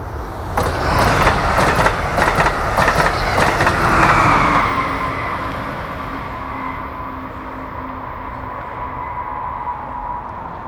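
Amtrak Keystone train 670 passes on the Keystone Corridor near Middletown, loud at first with a rapid clatter of wheels over rail joints, then fading to a steady distant rumble with a lingering tonal hum as it moves away.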